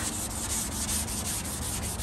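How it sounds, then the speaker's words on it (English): Continuous rhythmic sanding on wood, a dense scratchy rasp with quick back-and-forth strokes, close and steady with no voices. "You always want to go in a cross pattern when you're sanding"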